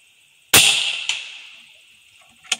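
Single shot from a .25 Air Venturi Avenger air rifle with a JSB King Heavy Diablo pellet, a sharp close crack with a lingering ring, followed by a faint distant tick and a small thwack of the pellet striking the target.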